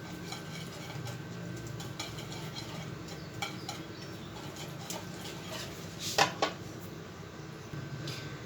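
Spice marinade ingredients for a Lahori chicken steam roast being mixed in a bowl, giving soft scraping and stirring clinks against the bowl, with a couple of sharper knocks near the end over a steady low background hum.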